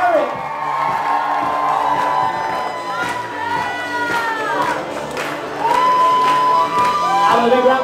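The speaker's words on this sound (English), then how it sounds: "A big round of applause for our bridesmaid Asha Lukaboo" Wedding guests at Kinney Bungalow in Narragansett, Rhode Island cheer as a bridesmaid enters, loud whoops, rising shouts and excited voices over crowd noise, swelling louder toward the end.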